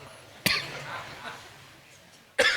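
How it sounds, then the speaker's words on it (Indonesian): Audience members cough during a religious lecture: two sharp, loud coughs, one early and one near the end, separated by a quiet stretch of faint room murmur. "Aduh, mereka batuk ya."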